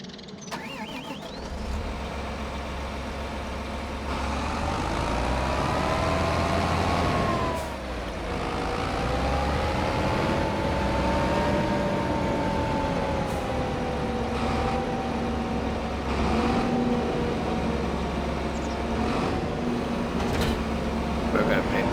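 A farm tractor's engine runs at a steady drone close by, holding an even rumble with a brief dip partway through, and no clear talk over it.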